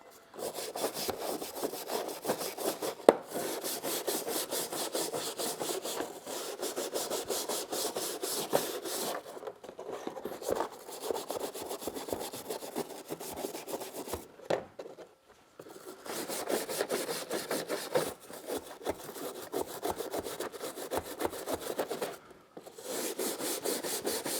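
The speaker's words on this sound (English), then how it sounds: "Let's give this one a little bit more of a scrub." Rusty metal being scrubbed by hand with a cleaning paste, giving steady rasping back-and-forth strokes in long runs broken by brief pauses, close and fairly loud with no talking.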